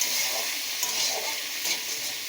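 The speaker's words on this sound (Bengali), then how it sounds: "টমেটোর একটু কাঁচা গন্ধটা চলে যাওয়া পর্যন্ত একটু ভেজে নেব" Tomato and onion fry in oil, a constant close sizzle broken by a few soft stirring clicks of the spoon against the pan, with no one talking.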